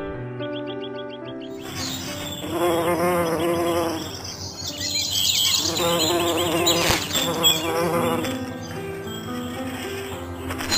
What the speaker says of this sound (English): The honeybees, being large in population, pollinates most of the flowers.